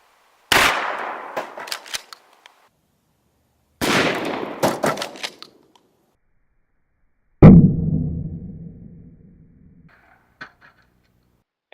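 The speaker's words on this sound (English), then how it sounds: "Alright, now let's try the buckshot." A 12 gauge shotgun fires buckshot into a TV: three sharp, loud gunshot blasts spaced a few seconds apart, each cracking hard and leaving a brief ringing decay, with small rattling debris sounds after the last shot.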